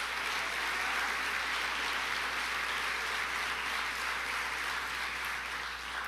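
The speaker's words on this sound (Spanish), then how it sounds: "Dale fuerte el aplauso a Él." Steady applause from a church congregation during a sermon on the resurrection, a continuous wash of clapping that sounds somewhat distant and fairly faint, holding level throughout without talk over it.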